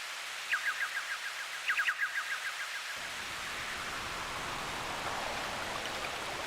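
Quick runs of bright electronic chirps and blips from a Suzuki QChord's built-in sound effects, then a steady hissing wash of noise like rain or a stream that carries on to the end.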